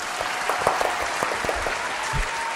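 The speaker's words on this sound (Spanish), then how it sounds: "el profesor Freddy Farías, para el cual pido un fuerte aplauso" Brief round of applause from a small audience during a pre-university mathematics class, light and steady clapping over about two seconds with no voices.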